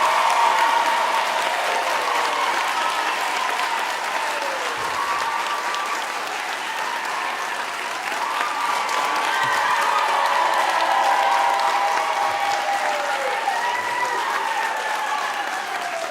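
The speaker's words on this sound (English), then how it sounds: "I want you to give yourselves a big round of applause and congratulate yourselves." Graduates at a university graduation ceremony applauding themselves, a long, loud, sustained roar of clapping from a large hall crowd with faint cheering mixed in.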